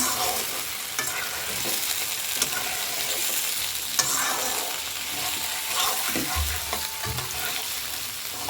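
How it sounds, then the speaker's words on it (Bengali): Spice paste (bata masala) fries in a pan for a new-potato dish, giving a steady, close sizzle throughout with the repeated scrape and knock of stirring. "হালকা একটু ভাজা করে ভেজে নেবো"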